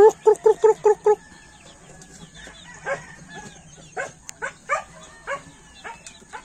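A flock of young Black Paraoakan chicken chicks peeps in a steady high chorus, while a voice opens with a quick run of rhythmic calls that mimic poultry and lower calls recur throughout.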